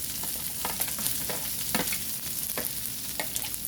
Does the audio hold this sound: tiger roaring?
no